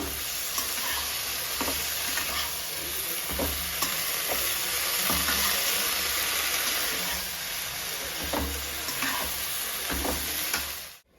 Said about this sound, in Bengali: লাউ শাকের পাতাগুলো কেটে রেখেছিলাম কুচিয়ে ওইগুলো দিয়ে দেবো এবারে মিক্স করে নিলাম